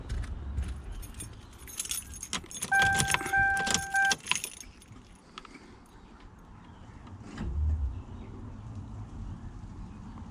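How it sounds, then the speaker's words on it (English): Car keys jangle and clatter as they turn the ignition, a busy metallic rattle lasting a couple of seconds, followed by a quieter hum and a soft thump. "So we'll turn the ignition on."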